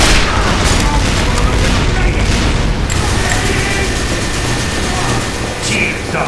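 Rapid gunfire from a new gun in Team Fortress 2 rattles on loudly and continuously with heavy booms, under frantic shouting.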